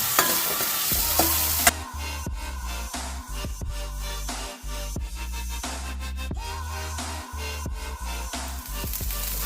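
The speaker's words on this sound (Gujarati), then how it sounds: "આપણે એને મીડિયમ ફ્લેમ પર બધું ફ્રાય કરી લેશું." Ginger, chilli and garlic fry on a medium flame for Manchow soup, a steady close sizzle broken by loud clanging stirs and scrapes against the pan, an especially hot burst at the very start.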